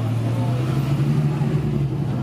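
A Ferrari 458 supercar leaving a supercar festival on a runway gives a deep, loud engine rumble that holds steady and close throughout, with no clear pass-by peak.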